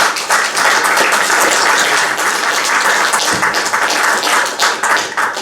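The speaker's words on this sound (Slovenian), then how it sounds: "Dajmo en aplavz." An audience at an event in Ptuj gives sustained applause, loud and dense with many sharp individual claps, continuing at full strength throughout with a dull thump partway through.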